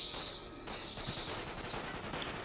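Gunfire in the Quantum of Solace video game on Xbox 360, rapid continuous bursts of automatic shots in a dense fusillade, loud and sustained, with a high whining tone over the first part.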